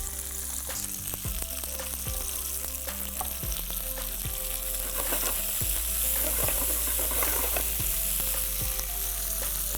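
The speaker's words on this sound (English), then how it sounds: "While I'm sauteing this" Eggplant curry ingredients sizzle and fry in a hot pan, a steady bright hiss punctuated by repeated scraping stirs of a utensil, close and continuous with no talk.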